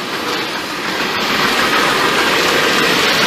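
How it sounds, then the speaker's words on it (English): A 1996–2000 Chevrolet Tahoe's air conditioning blows on max high, a loud, steady broadband rush of fan air heard close up and unbroken, with no talk. "I'm going to turn this AC on, max high"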